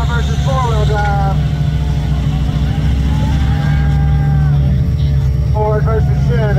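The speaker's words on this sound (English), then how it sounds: "Retro's engines rev. Let's hear it." Off-road vehicles, including a 6-wheel-drive truck, rev their engines at the Off Road Games at Sand Hollow Park in Utah, a loud steady engine drone with rising and falling pitch throughout, while a voice talks over it.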